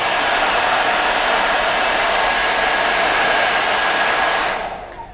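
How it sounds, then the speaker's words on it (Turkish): A hair dryer blows hot air onto a phone screen protector, a loud, steady whooshing hum close by that cuts off near the end. "Fön makinesiyle de şöyle ısıtabiliriz."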